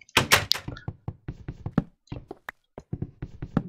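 Repeated dull wooden thunks and knocks land in an irregular series as a wooden door is broken in the video game Minecraft, with a few sharper hits among them and brief silences between blows.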